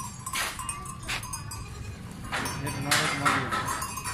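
Young goats, a pair of kids from the same nanny, bleating in a few short calls over outdoor background noise, with someone talking nearby.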